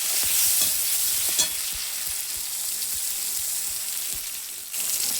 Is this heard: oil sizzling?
yes